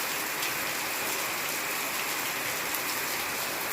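Heavy rain falling steadily, a dense, even rush of drops on surfaces that stays constant and fairly loud throughout, with no voices.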